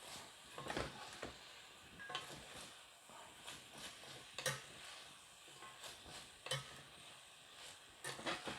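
Beef and okra frying in an iron skillet with a soft continuous sizzle, while a utensil scrapes and clacks at irregular intervals as the food is stirred and flipped, close but quiet.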